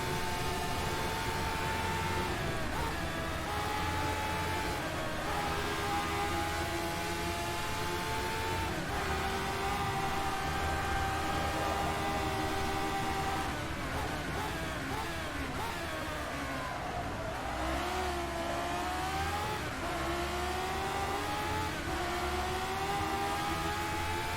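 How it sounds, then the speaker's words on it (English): A race car engine at the Nurburgring in the rFactor 2 racing game drones loudly and continuously, rising and falling in pitch through repeated gear changes and braking, with no talk over it. "I love the sound of this car."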